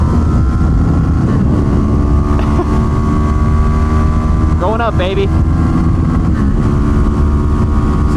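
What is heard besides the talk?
Suzuki GSX 250R motorcycle engine revving at rev limiter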